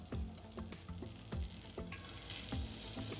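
Butter sizzles and fries on a hot tawa for a cheese and spicy bread omelette: a steady close crackle, punctuated by regular scraping strokes of a spatula, with no talking.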